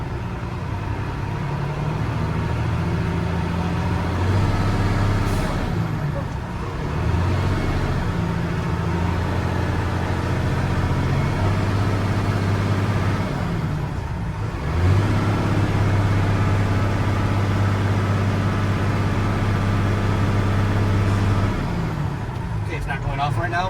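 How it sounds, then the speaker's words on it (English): Diesel engine of a truck in the cab during a CDL air brake test, idling in neutral with a steady low drone that is raised to higher RPM in several sustained stretches, while a person talks over it. "We'll raise our RPMs to listen for our governor to go off."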